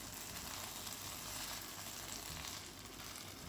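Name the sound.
scrambled egg sizzling as it goes into the pan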